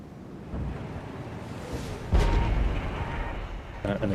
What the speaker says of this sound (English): Enemy artillery already coming in.